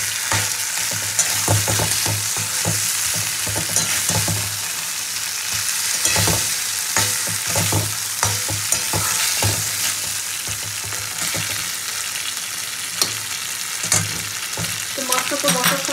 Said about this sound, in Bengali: মাছটা তো মশলার সঙ্গে সুন্দরভাবে কষা হয়ে গেছে